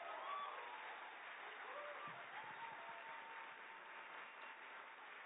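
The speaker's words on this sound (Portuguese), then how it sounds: "Aqui eu queria fazer uma salva de palmas." Audience applause at a university building inauguration ceremony attended by the president, a steady, muffled wash of clapping from a large crowd, low in level and even throughout.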